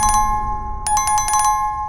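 A short electronic bell chime rings twice, with a quick burst of rapid repeated dings after a brief pause, clear and bright.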